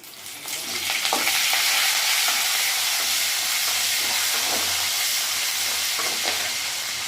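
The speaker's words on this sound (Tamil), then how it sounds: "காஞ்ச மிளகா நம்ம போட்டுக்கலாம் இப்போ நம்ம கிண்டி விட்டுக்கலாம்" Dried red chillies frying in hot oil in a pan, a loud, dense, continuous sizzle with the faint scrape of stirring now and then, steady and close throughout.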